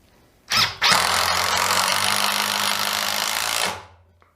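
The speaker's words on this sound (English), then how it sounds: "sometimes you're faster using a combi or a drill driver to actually put screws in" A DeWalt DCD710 drill driver drives a 70mm screw into wood, its motor whining steadily and loudly for about three seconds after a brief start-stop, then winding down, with no voices.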